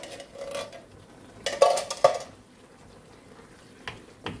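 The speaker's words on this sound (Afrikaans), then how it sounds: "Alles net mooi uitkrap." A spoon scrapes mixed vegetables out of a tin in a home kitchen while a macaroni dish with mince curry sauce is being made: a couple of clustered metallic scrapes and clinks midway, then a lighter tap near the end.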